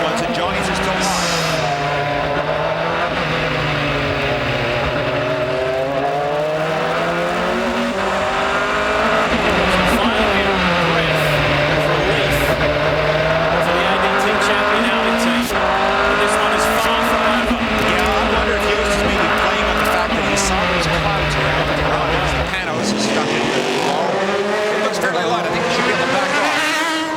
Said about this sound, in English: He's coming down the front straight here, and the Yost car should be going to the back straight right about this point.